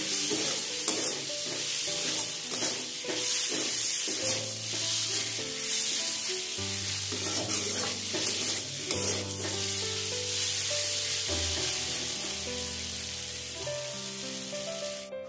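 Spice masala for a mutton curry frying and being stirred in a pan, a steady sizzle throughout with scraping stirs, while loud background music plays over it.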